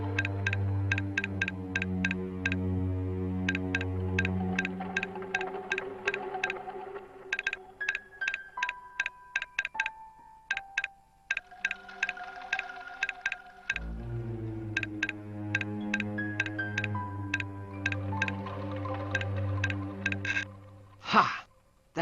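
A safe's combination dial turns in a video game with a rapid series of even mechanical ticks, pausing now and then, over a sustained low musical drone, and a single sharper click near the end as the mechanism falls into place.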